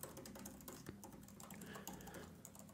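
Fingers typing on a computer keyboard, a quick irregular run of light clicking keystrokes, close and quiet, with no voice.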